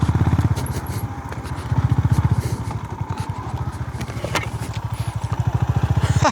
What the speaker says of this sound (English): So I can ride with the 10 kilometers per hour here and enjoy my motorcycle riding.